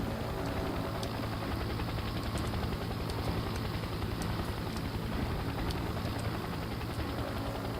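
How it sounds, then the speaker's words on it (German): A helicopter in the shooter game Soldier of Fortune makes a continuous, even rotor-and-engine roar, steady and moderately loud against a hiss of noise, with faint scattered clicks over it and no voices. "Und ich höre schon wieder so einen verdammten Hubschrauber."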